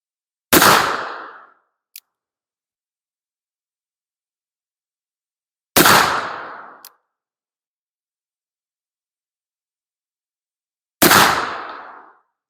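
Three black powder rifle shots loaded with ball-mill powder, each a loud, sharp blast with a short decaying tail, spaced about five seconds apart with silence between.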